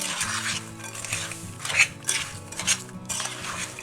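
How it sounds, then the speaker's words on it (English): Almonds being stirred with sugar in a pan, giving repeated scraping and rattling scrapes of nuts against metal, fairly close and steady with a few sharper clinks, no voices. "Stir those around until they're coated really good."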